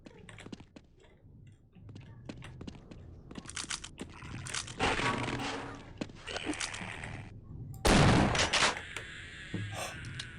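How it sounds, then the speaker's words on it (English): A shotgun in the game Half-Life fires two loud, booming blasts a few seconds apart, surrounded by scattered sharp clicks and taps. "God, I love this shotgun."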